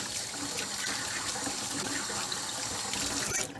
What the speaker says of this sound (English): you're going to use some little lukewarm water. You're going to rinse it off.